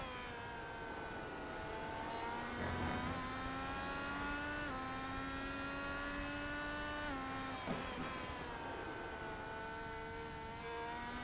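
An IR18 single-seater race car in iRacing at Brands Hatch, heard from on board with its engine whining loud and steady, stepping through upshifts and dropping sharply on a downshift for braking.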